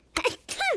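A cartoon character gives a sneeze in two parts, a quick sharp intake followed by a voiced, falling burst, close and clear with no other sound.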